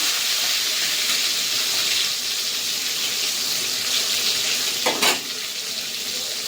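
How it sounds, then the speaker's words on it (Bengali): Slices of pointed gourd fry in oil with a steady, close sizzle that runs the whole time, broken near the end by a brief louder burst as they are turned; no one speaks. "উল্টে পাল্টে একটু ভেজে নেবো হালকা করে পটলটা"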